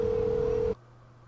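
A telephone sounds in a football career-mode game: a steady electronic tone holds loud for under a second, then cuts off abruptly to a faint low hum.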